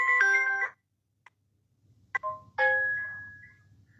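A phone ringtone from an incoming call during a livestream, heard as a bright electronic melody in short bursts with brief gaps and a faint low hum underneath, close and clear.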